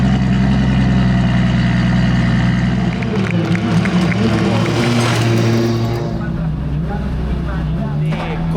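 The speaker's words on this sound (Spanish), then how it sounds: "Qué bien suena el coche de Manuel Vaca y Karim Jahan, que no se queda atrás" Drift car engine at a drift championship final in Spain, loud and steady with a rising rev burst near the middle, under a constant mechanical drone and some background voices.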